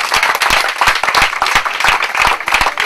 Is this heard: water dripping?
no